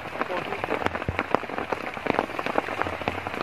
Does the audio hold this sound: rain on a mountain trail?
yes